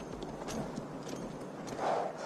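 Horse hooves clip-clop at a steady walking rhythm in the Red Dead Redemption 2 video game, moderately close over soft ambient background noise, with no talking.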